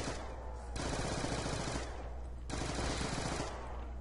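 Submachine gun fire in Call of Duty's Die Rise zombies map, two long sustained bursts of rapid automatic shots, loud and close, separated by a short pause, with no talking.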